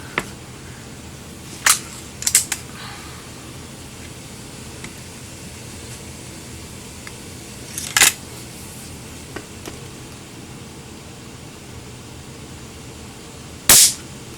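A Crosman Vantage air rifle fires pellets outdoors, giving several sharp, loud cracks spaced seconds apart over a steady background hiss, with a couple of fainter clicks between shots.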